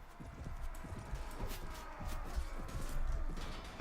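Steady clip-clop of many horse hooves galloping in the Mount & Blade: Warband video game, a dense, continuous rumble of hoofbeats with a faint whinny in the mix, no speech.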